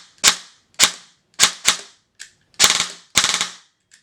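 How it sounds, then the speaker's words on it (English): F4 Defense PDW airsoft gun firing and cycling, sharp close mechanical cracks in short groups: single shots, a quick pair, then rapid bursts of three to five, with short silences between and no talk. "Plug your battery into your gun. Make sure it fires and cycles."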